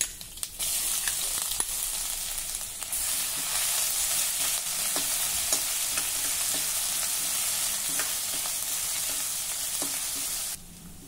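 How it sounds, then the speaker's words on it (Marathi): Mustard seeds, cumin and crushed garlic frying in hot oil, a loud, bright, continuous sizzle with scattered pops and crackles, rising sharply at the start and cutting off near the end. "तेल गरम झालं, आता यामध्ये थोडी मोहरी घालूया। थोडं जिरं, 1 टेबलस्पून ठेचलेला लसूण,"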